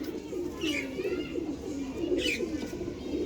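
A pigeon of a rare fancy breed gives two soft, low coos about a second and a half apart over quiet background noise.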